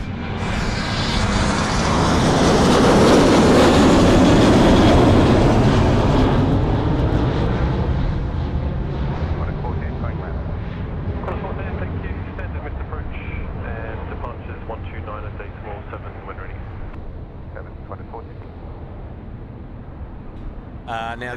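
An airliner's engines roar loudly at Sydney Airport during a go-around, swelling to a broad peak early on, then gradually fading as it climbs away, with people talking intermittently over the fading rumble.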